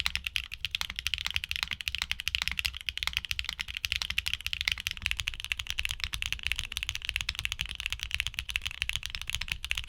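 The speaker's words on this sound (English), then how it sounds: "These switches are more subdued within the HMX lineup thanks to their nylon housings, which contribute to a softer, more muted sound profile" Continuous fast typing on a keyboard fitted with HMX switches in nylon housings, producing a dense, soft, muted clatter of keystrokes at close range.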